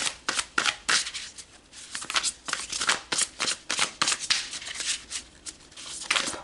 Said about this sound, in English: So let's pull some tarot and go deeper.